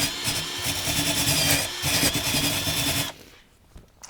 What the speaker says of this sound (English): we'll follow it up with some sanding